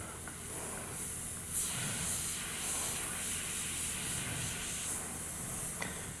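An airbrush sprays paint in a continuous soft hiss, steady and fairly quiet, with a slight swell partway through and no speech.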